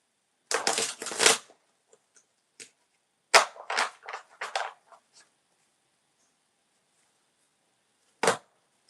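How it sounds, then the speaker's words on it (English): Reading cards being shuffled by hand, several crisp riffling bursts close up, a long one first, a cluster of shorter flicks after a pause, then one final snap, with silence between. "Let me shuffle my cards."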